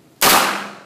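A short burst from an MP5 submachine gun set to three-round burst mode, heard as one sharp, loud crack that rings out and decays over most of a second, the individual rounds blurred together.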